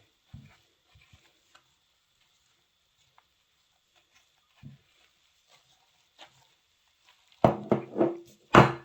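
Doughnut dough being mixed by hand in a bowl, with a few soft scattered taps early on, then several louder, close, wet stirring and slapping bursts near the end, no talking.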